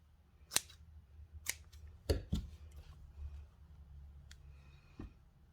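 Scissors cut scrap fabric for machine applique, making several sharp, close snips spaced irregularly over a few seconds against a quiet room, with no talk.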